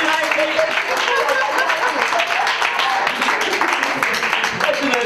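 Theatre audience applauding during an interactive play, continuous dense clapping at steady loudness across the whole stretch, with some crowd voices mixed in.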